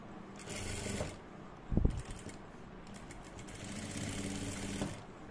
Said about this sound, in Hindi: अब दूसरे साइड भी सिलाई लगाएंगे फ्रेंड्स